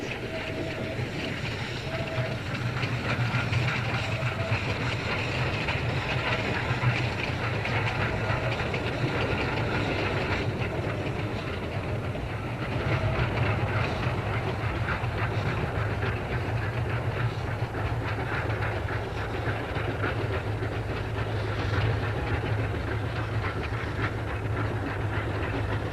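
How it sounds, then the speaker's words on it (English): A historic East Broad Top Railroad train on a Pennsylvania short line rolls steadily past, a continuous low rumble with faint rhythmic clicking of wheels over rail joints, moderately distant and unbroken throughout. "Now an encore on the East Broadtop Railroad, a historical treasure and one of the great Pennsylvania short lines."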